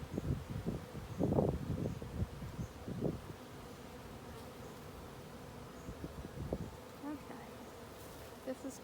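Honeybees hum and buzz steadily around an opened hive during an inspection, with louder rustling and handling bumps near the start and a continuous insect drone underneath throughout.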